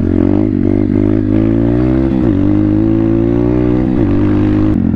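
Pit bike engine running loud and close, a steady buzzing drone with a few quick throttle blips rising and falling in pitch.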